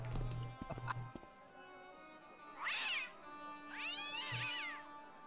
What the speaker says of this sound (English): That cat does not like you, George.